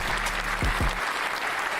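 A round of applause from a small group on a podcast, a dense steady patter of clapping at moderate volume, with a low rumble and brief thumps early on.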